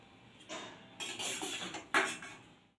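Boiled raw mango pieces are drained from their water in a kitchen, with a few close clinks and scrapes of metal utensils and pans in short bursts.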